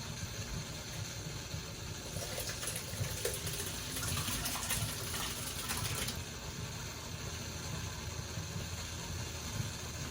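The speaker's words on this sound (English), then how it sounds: "put it into my colander so all of this can drain off" Water draining off salted cucumbers sitting in a colander, a steady faint trickle and hiss that swells louder for a few seconds in the middle before easing back, with no talking.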